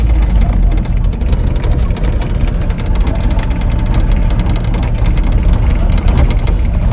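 Three vehicles' engines run steadily and loudly as they set off together toward a stick-cutting site, a dense, continuous low rumble with faint voices underneath.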